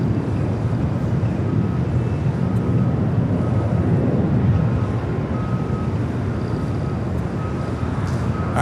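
An Airbus A350-900 arriving from Madrid on landing at LAX, heard as a loud, steady broadband engine roar with a deep low rumble that holds throughout, no talking over it.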